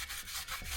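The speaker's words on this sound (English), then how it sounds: "now we're going to get after it to get a little bit finer, get in some nooks and crannies with some Scotch-Brite" Abrasive scuffing of painted bead grips with a Scotch-Brite pad, a close, steady rubbing with a few stronger strokes, heard alone without talk.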